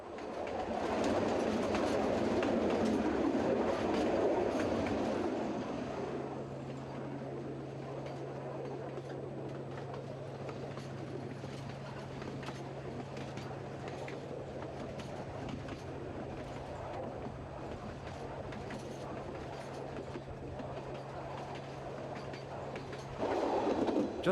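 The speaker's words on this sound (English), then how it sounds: "the train enters the first of 13 tunnels that lie between here and Soller, 13 kilometers away" A Soller Railway train runs along the track on Mallorca near Bunyola, a steady rolling rumble with a sustained low drone throughout, louder at first and continuing without talk.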